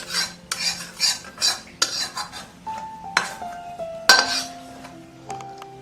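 Metal spoon scraping and clinking against a pan and a big pot while roasted besan (gram flour) is transferred, a series of sharp clinks and scrapes, close and alone with no talk.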